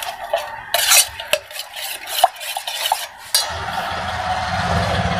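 A spoon stirs fenugreek powder and cumin powder together in a bowl for bellam avakaya pickle, giving a scraping, clinking rhythm of strokes. A steadier, fuller rustle of mixing follows near the end.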